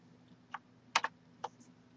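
Several quiet clicks of typing on a computer keyboard, an irregular scatter of key presses with a quick double tap near the middle, close but faint, with no talking.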